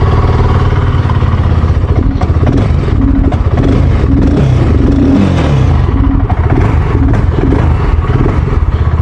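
BSA Gold Star 650 single-cylinder 650 cc motorcycle idling just after ignition, a close, loud, steady thumping exhaust beat with mechanical clatter and a brief blip of revs midway.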